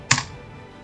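A brief, sharp clatter of computer keys, a couple of quick keystrokes close by, then near silence.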